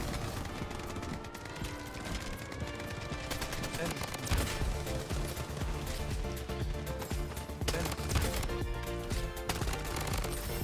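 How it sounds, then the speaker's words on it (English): Gunfire in the video game Bloodstrike comes as dense, rapid bursts and overlapping volleys, loud and nearly continuous, with voices heard underneath. "I can't handle the gun sound"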